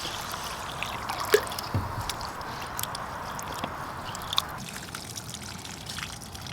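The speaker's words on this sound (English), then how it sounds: "I'm gonna rinse that again" Water sloshes and trickles as rice is rinsed in a cooking pot, a soft close wash of liquid with a few light drips and knocks and no voices.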